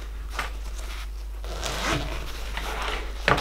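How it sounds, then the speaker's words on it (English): A zip-up pouch on the back of a Choetech SC006 36W outdoor solar power bank is opened with a few rasping zipper pulls, close and fairly loud, ending in a sharper final tug. "On the back, it has this large zip-up pouch."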